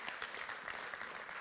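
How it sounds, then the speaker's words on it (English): An audience at a crypto investment talk applauds steadily, a dense wash of many hands clapping at moderate distance with no pauses. "let's give a round of applause to the team"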